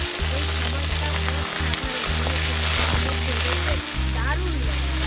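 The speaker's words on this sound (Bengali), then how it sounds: "এবার দিয়ে দেবো চিংড়ি মাছ।" Prawns fry in hot oil with crushed garlic, giving a loud, continuous close-up sizzle with occasional stirring, while a low steady hum runs underneath.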